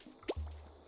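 A single soft water drip from a squeezed cactus in Carto, a faint close plop followed by a brief low wet squish, alone and quiet.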